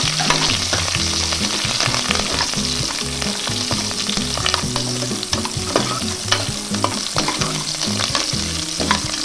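Onion, curry leaves and dried red chillies frying for chicken gravy, a loud steady sizzle close up with continuous stirring scrapes in the pan and no talking.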